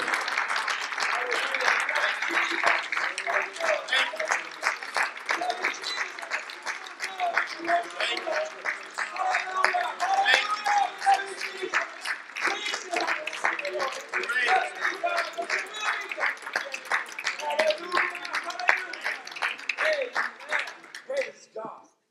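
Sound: audience clapping for the Lord

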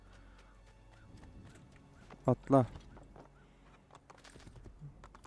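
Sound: horse galloping hoofbeats in the video game Assassin's Creed II

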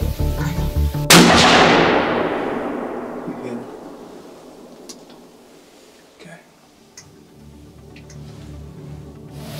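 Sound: gunshot from a youth hunting rifle

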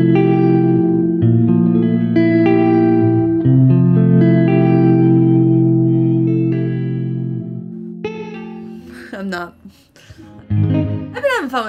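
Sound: guitar with room reverb and shimmer

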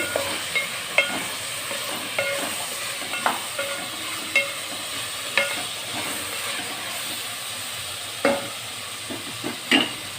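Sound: onions frying in a pan

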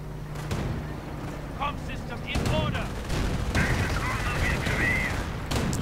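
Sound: Calliope rocket barrage and gunfire in a video game

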